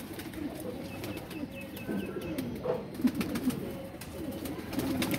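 Kasuri kamgar pigeons coo in soft, repeated low calls close by, over a steady background of rustling and ambient noise.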